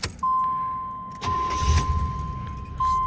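A Chevrolet Caprice Classic engine cranks and catches, then settles into a loud close idle, with a steady electronic chime ringing throughout and a clunk near the end.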